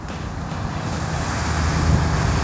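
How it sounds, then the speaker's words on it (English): Strong wind blows steadily around a DJI Mavic Mini drone in flight during a range test, a continuous loud rushing roar that builds slightly over its length, with no voices. "the wind is not letting this thing move, man"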